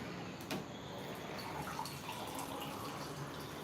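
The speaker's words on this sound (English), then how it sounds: "Get some water going." Water runs steadily from a tap at home, a faint, continuous wash of noise with no speech over it.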